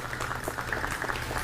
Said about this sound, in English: Huge round of applause for you all and for everyone in the program.